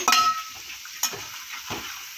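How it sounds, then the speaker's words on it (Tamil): Lentil vada frying in hot oil give a steady, close sizzle, broken by a few short clinks and scrapes as a batch is stirred and turned. "இப்போ இந்த பக்கம் வந்து ஒரு பேஜ் வடை போட்டு எடுத்துகிட்டு இப்போ இன்னொரு பேஜ் போட்டாச்சு"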